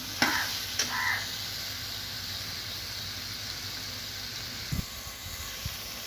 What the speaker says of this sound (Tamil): நம்ம உப்பு பொடி மஞ்சள் பொடி இதில் கொஞ்சம் சேர்த்து வதக்கிடலாம்